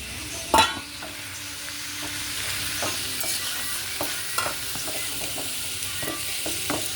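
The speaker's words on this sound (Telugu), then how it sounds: "ఉల్లిపాయలకి ఉప్పు వేస్తే తొందరగా వేగుతాయి ఉల్లిపాయలు." Salted onions frying in a pan for a mutton curry, a steady close sizzle with occasional stirring scrapes and clicks, no talking.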